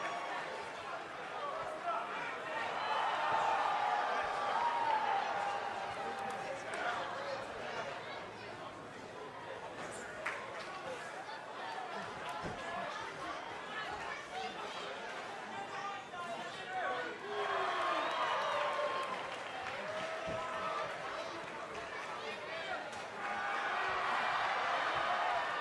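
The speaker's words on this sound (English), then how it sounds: "it sounds to me like the crowd is more than ready for this one" A wrestling arena crowd keeps up a steady roar of chatter and cheering throughout, swelling louder near the start and again toward the end.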